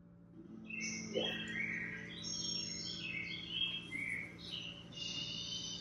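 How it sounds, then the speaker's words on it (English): A wood thrush sings near Williamsport, its clear fluting phrases rising and falling in repeated bursts over a steady low hum, fairly close and alone. "the bird that's singing here is a wood thrush that I recorded near Williamsport."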